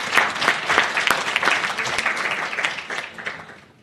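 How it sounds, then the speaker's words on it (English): Applause from a seminar audience greeting the speakers: a dense round of clapping that swells early, holds steady, then thins and fades out near the end. "a warm welcome, round of applause for our speakers"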